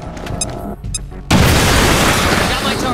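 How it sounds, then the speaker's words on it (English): A frag grenade detonating in a first-person shooter, a sudden loud boom that follows brief game voice chatter and leaves a sustained, noisy rumble decaying afterward. "Tossing frag."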